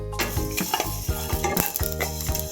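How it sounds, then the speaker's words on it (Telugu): Coriander seeds with mustard, cumin, fenugreek and cinnamon dry-roast in a kalai pan, giving a soft crackling rustle with repeated scraping stirs and light metallic clinks, steady and close. "కళాయిలో ధనియాలు, ఈ మసాలా దినుసులన్నీ వేయించేసుకుందామండి."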